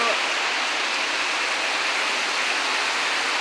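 Heavy monsoon rain pours down in a dense, steady hiss that fills the whole stretch, loud and close with no breaks.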